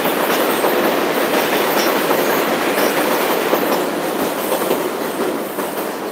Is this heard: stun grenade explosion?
no